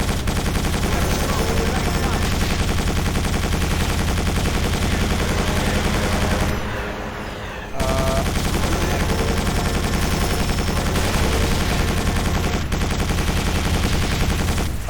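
Loud, dense automatic gunfire in the game Quake 4, aimed at a Strogg vehicle, rapid sustained bursts with a short pause midway, played over game music.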